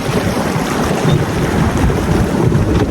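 A boat races across the water at a boating club in Pune, giving a continuous loud rush of churning water and wind buffeting the microphone, with no voices.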